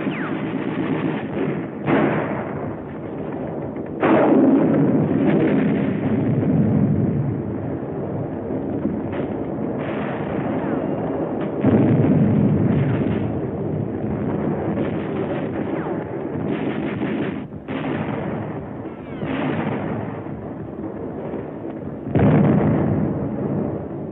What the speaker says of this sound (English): Bazooka, the hand-carried rocket gun. Firing it takes close teamwork.